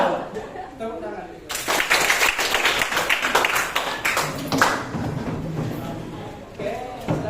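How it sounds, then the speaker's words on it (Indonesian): A group at a counselling training session bursts into clapping after a quiet opening, with dense claps and some laughter and chatter mixed in before the applause fades under a resuming voice. "Tepuk tangan."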